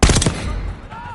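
Gunfire exchange in Call of Duty Black Ops 6, a loud rapid burst of automatic shots up front that tails off into a fading rumble.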